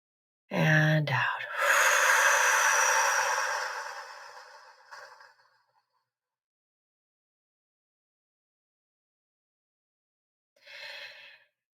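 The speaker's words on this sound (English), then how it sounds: "We're going to breathe that in and out." Deep breath drawn in and let out slowly in a quiet room, a long airy exhale fading away, followed by a short soft breath some seconds later.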